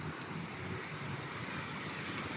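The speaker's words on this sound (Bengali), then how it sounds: "দেখেন দেখেন কিভাবে নামছে আবুধাবিতে তুফান এই যে এখন শুরু হয়েছে দেখুন" Heavy storm wind and rain in Abu Dhabi, a steady, dense roar of wind and rainfall that holds at an even level throughout with no pauses.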